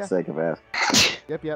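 A sneeze bursts out midway through a casual tabletop Dungeons & Dragons session, loud and close, with people talking just before and right after it.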